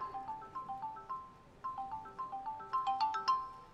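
A phone ringtone plays alone, a clear repeating melodic pattern of bright electronic tones in short bursts, growing busier and louder toward the end.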